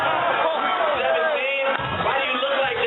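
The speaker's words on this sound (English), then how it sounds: "Are y'all hearing the crowd?" A crowd cheers and yells from a played video, loud, dense and continuous throughout, with voices shouting over one another.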